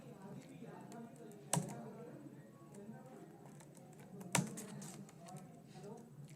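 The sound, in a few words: typing on a computer keyboard, entering rates manually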